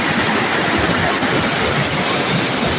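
Rushing floodwater inside a cave during heavy rain, a loud continuous roaring wash of water that stays steady and close, with no speech.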